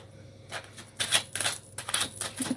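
Tarot cards being shuffled by hand, heard as a series of crisp papery riffling bursts that come and go for a couple of seconds with no talking.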